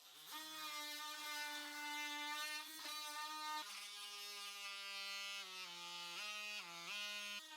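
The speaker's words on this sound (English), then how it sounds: "just get my oscillating tool and cut off that" An oscillating multi-tool buzzes as it cuts about 3/8 inch off the bottom of a door casing so flooring can slide underneath, a loud steady whine that shifts pitch as the blade bites and eases, with no talking.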